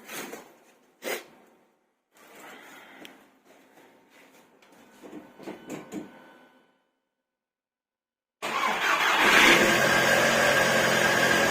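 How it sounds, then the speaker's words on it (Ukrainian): A Skoda Octavia Tour 1.8 turbo (AKN) engine, just fitted with a new timing belt, cranks in short bursts with pauses, goes quiet, then catches and runs at a loud, steady idle to the end. "Будемо пробувати запускати автомобіль, чи все працює."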